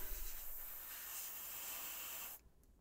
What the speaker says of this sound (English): use the airbrush, just air, to dry this off real quick